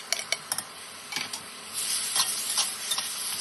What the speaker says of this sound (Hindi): और उसको चला लिया है जिससे मसाले लग जाएं सब